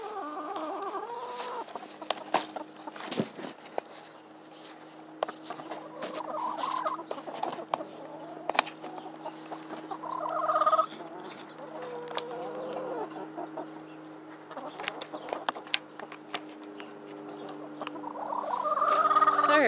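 Chickens cluck and murmur in a backyard coop on a morning, with scattered calls rising and falling under a steady low hum, growing a bit busier toward the end.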